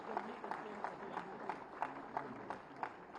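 A ceremony audience at a groundwater week closing event claps in a steady, rhythmic beat, roughly three claps per second, distant and faint against a low hum of crowd noise.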